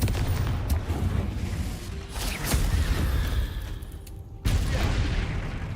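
In Hogwarts Legacy, a Confringo fire spell bursts in a loud rolling blast. Heavy, continuous booming and crackling combat noise follows, with a sudden louder impact near the end.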